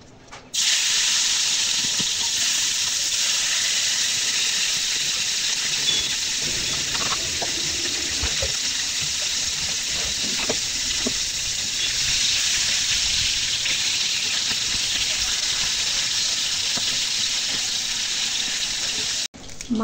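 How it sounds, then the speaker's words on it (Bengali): Fish frying crisp in hot oil in a wok, a steady loud hiss and sizzle running unbroken for the whole stretch, close and alone with no talk. "এখন মাছগুলো মুচমুচে করে ভেজে নেব।"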